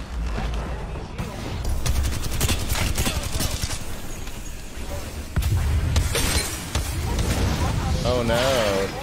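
Video game gunfire crackles in rapid bursts and scattered shots amid loud in-game action, with people talking over it throughout.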